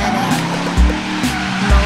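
A car drifting with its tires squealing: broad screeching bursts over a steady engine drone, with low thumps near the start and end of a short, loud stretch.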